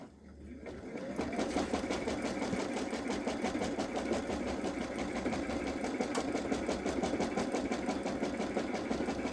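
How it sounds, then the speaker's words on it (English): A Baby Lock Solaris embroidery machine stitches placement lines for an appliqué bow on a sweatshirt, a rapid, even mechanical chatter that starts after a brief pause and then runs continuously and close. "the next one is the stitching lines, or the placement lines, for the first part of the bow. So I'm going to go ahead and stitch those"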